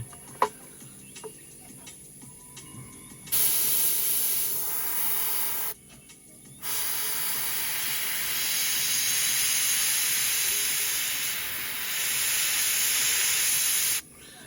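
An airbrush sprays thinned paint onto a 1/48 MH-53E helicopter model in a steady, loud hiss that runs in long bursts, stops briefly, then resumes, with faint ticks and clicks before the first burst.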